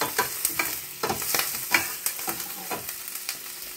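Leftover lean pork chop, fat trimmed off, frying and being stirred in a pan for pinakbet, with a steady sizzle and repeated scraping stirs at an even rhythm, close and moderately loud, no talk.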